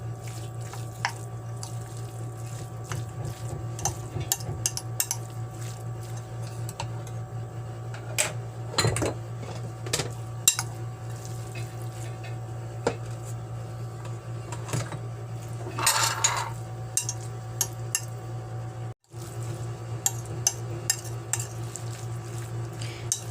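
Utensil stirring lumpia shanghai filling in a bowl, with scattered clinks and scraping against the bowl over a steady kitchen hum, close and moderate.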